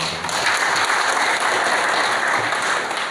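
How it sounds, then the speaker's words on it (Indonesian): An audience at an Indonesian religious affairs ministry event gives a round of applause, a dense, even wash of clapping that swells in quickly and holds steady at close range. "Boleh tepuk tangan"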